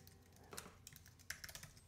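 Keys clatter on a computer keyboard during a live online banjo workshop, with quick, uneven bursts of clicks that cluster and pause, fairly close and moderately quiet, with no talking.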